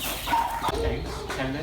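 Farmyard hen clucking close by, a few short throaty calls over a couple of seconds, with people talking around the bird.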